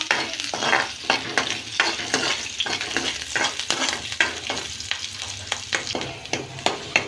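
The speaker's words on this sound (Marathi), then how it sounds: "आता आपण लसूण आलो आणि हिरवी मिरची घालून घेणार आहोत फ्राय करून घेणार आहोत" Garlic, ginger and green chilli frying in hot butter in a kadhai for Manchow soup, a loud close sizzle under rhythmic stirring scrapes, repeating steadily, with no voices.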